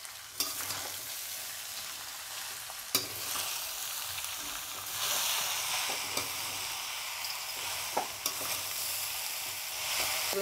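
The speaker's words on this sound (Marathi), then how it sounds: "व्यवस्थित असं हलवून घ्यायचं" Spicy fasting halwa seasoned with peanuts and rock salt gets stirred in a pan, a steady soft sizzle running throughout with a few sharp spoon scrapes and clicks against the metal.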